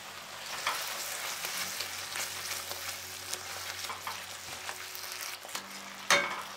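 Kidney bean curry masala sizzles and fries in a pan while being stirred, with soft scraping strokes over a steady hiss and one sharper clatter near the end; no voices.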